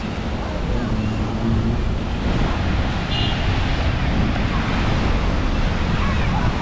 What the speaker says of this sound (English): The waves are a lot more bigger.